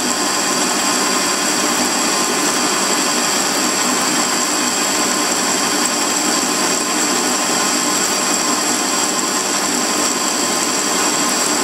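Aluminium being turned on a Warco lathe, taking a 1 mm cut per side with the chips breaking off; a steady, loud, broadband machining hiss with a constant whine runs unbroken throughout, with no talking.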